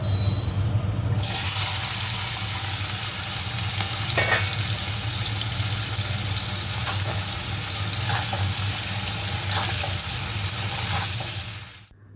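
Bitter gourd and pumpkin fry sizzling steadily in a pan, with a broad continuous hiss and occasional scraping stir strokes, close and loud throughout before cutting off at the end.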